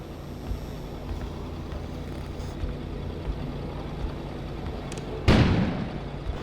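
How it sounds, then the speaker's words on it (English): A sudden explosion outside in a mystery investigation video game, a single sharp loud boom over a low steady ambient rumble, trailing off into a short fading roar. "An explosion suddenly occurred outside."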